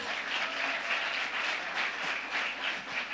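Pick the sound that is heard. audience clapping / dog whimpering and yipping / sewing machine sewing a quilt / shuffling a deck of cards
audience clapping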